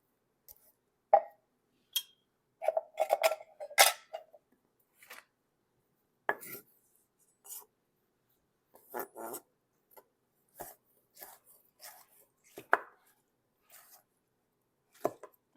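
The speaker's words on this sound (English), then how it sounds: "And now I'm going to chop these up." A knife rough-chops cooked ingredients for a spinach artichoke chicken bake on a cutting board, sharp irregular thuds spaced apart in a quiet kitchen with no talking.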